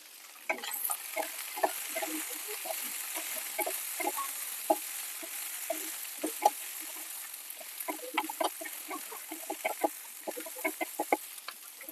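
Spoon stirring food in an Amway cookware pan with lid, scraping and clinking steadily over a constant frying sizzle, close and fairly loud, no one speaking.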